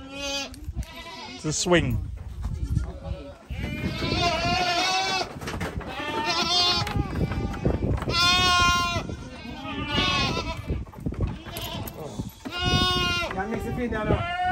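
Several goats bleat loudly and repeatedly at close range, their wavering cries overlapping almost continuously while a person talks among them.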